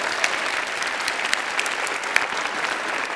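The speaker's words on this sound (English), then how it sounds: "Thanks for clapping." Audience applause at a literary prize ceremony, a steady wash of clapping from a crowd with a few sharper claps standing out, continuous throughout with no talk.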